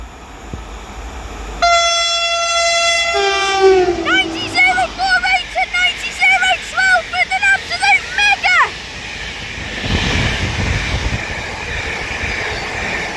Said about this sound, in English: Now passing through is going to be another freight train. It is a class 90 this time